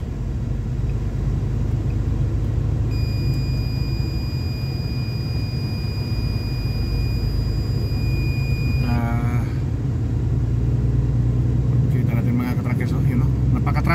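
Road traffic around a bus in heavy traffic in Europe, a constant loud low rumble of engines with steady tonal whines, a brief squeal partway through, and voices underneath.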